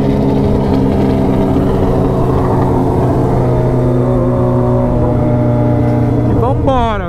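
Yamaha XJ6 motorcycle engine droning loudly and steadily at night with strong low harmonics, then a sharp rising rev near the end, with someone talking over it.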